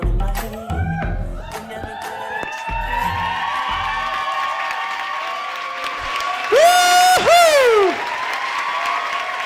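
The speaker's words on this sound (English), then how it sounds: "Big round of applause for Larissa Frisbee and DJ Kakah." A dance festival audience at a Zouk Jack&Jill competition bursts into loud applause and cheering, with whoops and high shouts rising over sustained clapping while a sung melody continues underneath.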